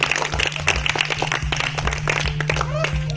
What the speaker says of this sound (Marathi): श्रेयसाठी टाळ्या वाजवा.